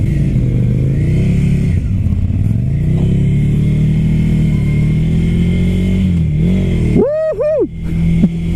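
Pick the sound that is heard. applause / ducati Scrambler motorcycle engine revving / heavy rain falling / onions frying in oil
ducati Scrambler motorcycle engine revving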